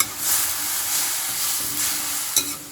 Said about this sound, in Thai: เดี๋ยวเราลวนหมูกันต่อเลยนะคะ